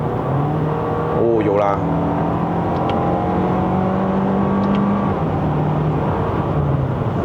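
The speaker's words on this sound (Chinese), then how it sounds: "拉高转之后，听一下引擎的声浪有没有哈？" A Toyota Vellfire AH40 with a 2.4-litre turbo engine revs at high rpm, a sustained rising engine drone heard from inside the cabin while a person speaks briefly over it.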